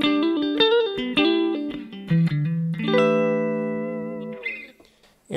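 Electric guitar through an open-back cabinet, captured with a Royer ribbon microphone, plays a short clean melodic phrase of quick single notes, then holds one long ringing note that slowly decays before a brief scrape at the end.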